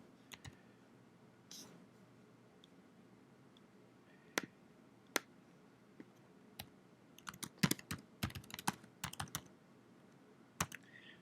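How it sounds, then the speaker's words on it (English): Scattered keyboard typing, sparse clicks at first then a quicker burst of keystrokes, close and fairly quiet with no talk. "Oh, I have a hard time typing."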